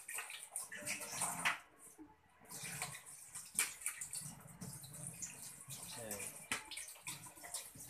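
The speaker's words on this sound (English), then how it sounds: "Wash your hands first." Hands are washed under a running tap at home, with soap, giving a continuous splashing water sound that rises and falls, heard under intermittent conversational voices.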